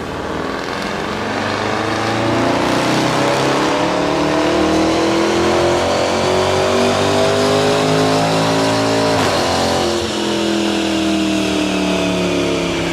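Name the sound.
supercharged V8 Land Rover Defender engine revving on dyno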